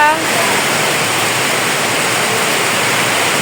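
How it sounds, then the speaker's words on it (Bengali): Rain falls steadily, some of it onto water, making a dense, loud, unbroken hiss close by. "কি সুন্দর বৃষ্টি, মনে হচ্ছে যত বৃষ্টির শব্দ শুনি ততই ভালো লাগে।"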